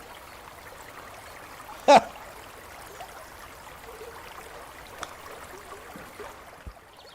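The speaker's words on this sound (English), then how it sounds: "It's so loud. There's so much water." Water ambience from a golf simulator video game: a steady, faint broadband rush runs throughout, with one sharp knock near the two-second mark and a few softer clicks later.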